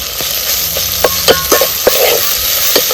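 Chopped onion fries in oil for village-style vajri masala, giving a steady bright sizzle with a spoon scraping and tapping the pan now and then.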